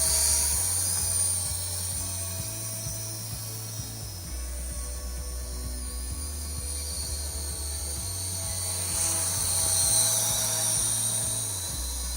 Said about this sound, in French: Assez doux à piloter notre petit drone là.